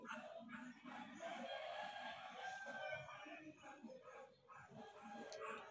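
A rooster crows at a distance over a busy, noisy background, with other outdoor sounds and faint activity around it.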